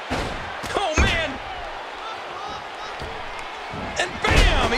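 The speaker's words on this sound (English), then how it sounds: "And bam! He knocks the opponent down." In WWE 2K14, a wrestler is knocked to the mat with a heavy slam. Sharp impact thuds come near the start and again near the end over steady crowd noise, with a commentator talking throughout.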